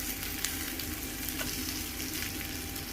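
Rupchanda pomfret fish frying with onions in a pan for do-pyaza gives off a steady, gentle sizzle with faint crackles, constant and close, with no talking.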